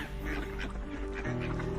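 Mallard ducks quack and honk close by in a dense, continuous jumble of overlapping nasal calls over a steady low background.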